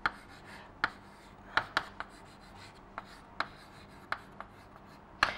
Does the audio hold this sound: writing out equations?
yes